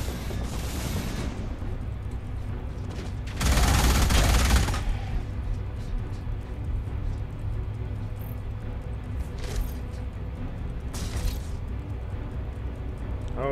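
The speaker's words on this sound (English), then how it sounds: "What the hell are they firing at?" Gunfire in the video game Alien Rage: a loud rattling burst of rapid automatic shots early on, followed by scattered shorter bursts over a low, steady game ambience.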